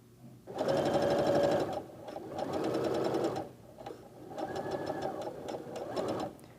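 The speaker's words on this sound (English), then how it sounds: "now I'll stitch down the length of fabric" A sewing machine with a quarter-inch foot stitches a seam along a length of fabric, running in three steady whirring bursts of a second or two each, with short pauses between them, close and clear with no talking.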